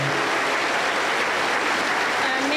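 A church congregation applauds loudly and steadily, a dense wash of clapping from start to finish.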